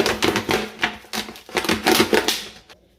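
Close, loud crunching and snipping as a plastic bottle is cut in irregular bursts, with crackling bits between cuts, then it stops.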